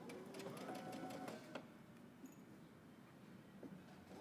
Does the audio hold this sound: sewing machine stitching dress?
yes